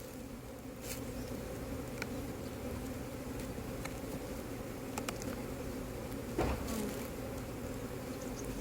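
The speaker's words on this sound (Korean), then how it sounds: "자, 뒤에도 벌이 넘치죠." Honeybees hum as a dense, steady buzz from a crowded hive during a spring inspection of the frames, with a few soft knocks and clicks and no talking.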